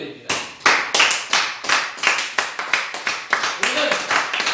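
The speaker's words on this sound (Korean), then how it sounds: "하나님께 감사의 박수 올려드립니다." Church congregation clapping in rhythmic unison during a Sunday sermon, a steady series of sharp, loud hand claps close by, with no talk over them.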